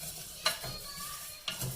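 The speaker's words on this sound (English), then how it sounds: "constantly be stirring the rice." A spatula or ladle stirs rice in a pan for chiles rellenos, giving a soft, steady scraping with two sharper clinks of utensil on metal, faint and close, with no voices.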